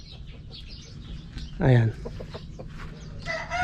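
Rhode Island Red chickens clucking in their coop, soft scattered clucks and one louder rising squawk, with a brief spoken word near the end.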